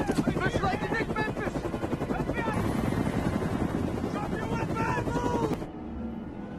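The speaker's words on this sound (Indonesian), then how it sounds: "tiba-tiba 2 helikopter FBI datang untuk menangkap Swagger." Two FBI helicopters arrive in a film scene, their rotors chopping in a loud, steady rhythm over voices and dramatic sound for about five and a half seconds before cutting to quieter background.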